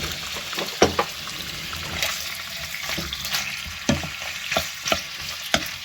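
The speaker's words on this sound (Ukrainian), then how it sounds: "І буду його час від часу помішувати, щоб воно гарно в мене просмажувалося з усіх сторін." Pork sizzles steadily in a frying pan while a utensil stirs it, the scraping strokes coming at irregular intervals over a constant hiss.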